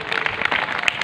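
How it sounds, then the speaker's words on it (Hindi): A brief patter of audience clapping, quick uneven claps from a gathered group filling about a second without any speech. "एक बार जोरदार तालियां अपने लिए बजा लें जो लोग"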